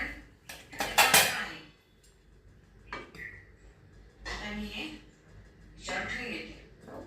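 Metal idli plates are lifted out of a steamer pot, clattering and clinking in several sharp bursts of metal on metal separated by quieter pauses, while someone speaks over the handling.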